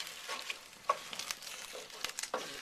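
Beef and bacon being stirred back into a pot of simmering juices for beef burgundy, giving soft scraping and faint sizzling with a few sharper clinks, fairly quiet throughout.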